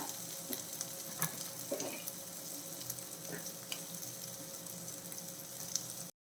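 Prawns frying in a pan for a shallot prawn roast produce a faint, continuous sizzle with a few light clicks of turning, fading out abruptly at the end.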